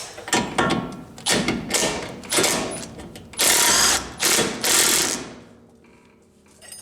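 A socket wrench works a spindle off a bird scarer, giving close mechanical bursts of ratcheting and rattling in uneven spurts that stop in quiet near the end.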